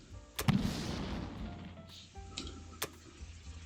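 Artillery bombardment in the strategy game Axis & Allies 1942 Online: a sharp boom near the start and a second blast a few seconds later over a low game backdrop.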